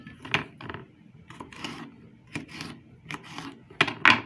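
A knife slicing through fresh jalapeño chili peppers on a cutting board, with repeated short crisp cuts and rubbing strokes at close range, irregular in rhythm and fairly quiet.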